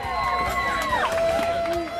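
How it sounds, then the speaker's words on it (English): Weigh-in crowd cheering and whistling as a marlin is carried over at a fishing tournament, a busy outdoor roar with sliding whistles and shouts, continuous throughout. "The crowd is going nuts as the fish is carried over"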